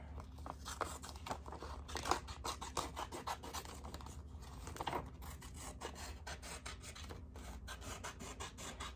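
Scissors snip through paper while cutting out a piece for a junk journal collage, giving a close, continuous run of rasping, scratchy cuts with no talking.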